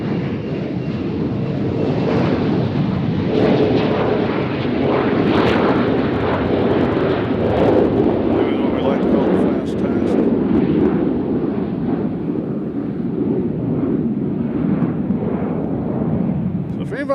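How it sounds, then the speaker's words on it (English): A departing airliner at Nashville International Airport roars continuously and loudly, a steady broadband rumble of jet engines that holds for the whole stretch before easing slightly at the end. "This one's going to Allentown."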